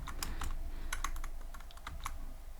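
Fingers tap Python code on a computer keyboard, quick uneven bursts of close clicking keystrokes over a low steady hum, with no voices.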